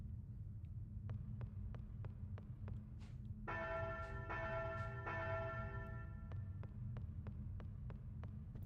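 A bell rings out in a couple of sustained, resonant strikes partway through, standing above a low, steady hum and a regular ticking pulse that runs the whole time.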